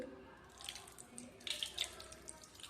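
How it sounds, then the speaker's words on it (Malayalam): Tamarind water is poured into a pot in a few faint, close splashes and trickles, quiet and short. "ഇതിനകത്തോട്ട് കുറച്ച് പുളിവെള്ളം ഒഴിക്കാം"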